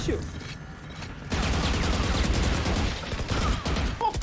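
Rapid gunfire from a shooting video game, loud sustained bursts of shots and mechanical clatter filling most of the stretch, with excited voices talking over the action.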